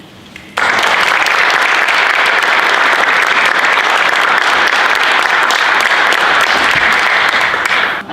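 An audience bursts into loud, sustained applause welcoming a speaker at an opioid recovery community event, the clapping starting abruptly and holding steady for several seconds before easing off.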